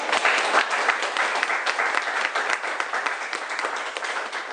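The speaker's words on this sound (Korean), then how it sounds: "이렇게 저자님께 박수 한번 보내드릴까요?" A live audience at a Korean author's book talk broadcast by Daejeon MBC applauds steadily, a dense, even wash of many hands clapping throughout with no voices on top.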